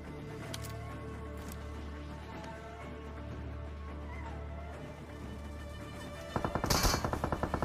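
Burst of automatic gunfire sprayed by a hacker in the mobile shooter PUBG Mobile, a dense rapid crackle of shots arriving late over steady in-game background rumble.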